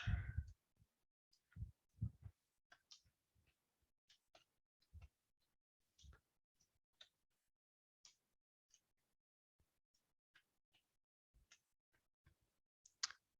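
Scattered keyboard typing at a computer, sharp key clicks coming in irregular bursts and single taps with pauses between them. The sound is quiet and close, with no talking.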